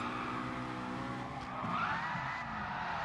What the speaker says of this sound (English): We've seen Ransom do some cool stuff in that BMW, but he's got Madden following him through now.